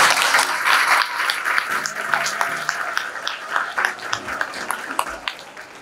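Loud, sustained applause from an audience of children and mothers at a religious summer camp session, dense clapping that gradually thins and fades toward the end.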